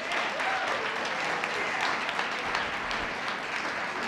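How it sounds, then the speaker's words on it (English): Audience applause inside Riverside Church, a large crowd clapping loudly and steadily throughout, a dense, continuous wash of hand claps. "let's a round of applause for Mumia again"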